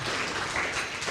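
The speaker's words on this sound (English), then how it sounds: "Applaud Paul Graham" Audience applause at an annual lunch gathering, a steady dense wash of clapping that holds evenly for the whole short stretch with no voices on top.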